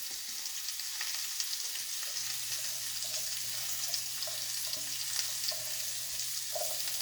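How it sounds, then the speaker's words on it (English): Margarine melts in a pan with a soft, steady sizzle and faint crackles, a low hum running beneath it and no one talking. "Now the margarine is beginning to melt, which is a good thing."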